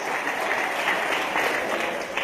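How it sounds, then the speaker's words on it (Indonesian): An audience at an Indonesian motivational talk by Ustad Yusuf Mansur breaks into applause, a steady wash of many hands clapping together at even loudness throughout. "Nah yang ini boleh tepuk tangan."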